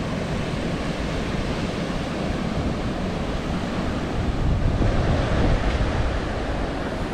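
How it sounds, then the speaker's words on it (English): Steady roar of sea waves and gusting wind on the Sozopol coast, with wind buffeting the microphone and the surf swelling louder for a moment midway through, and no voices. "Still too much waves."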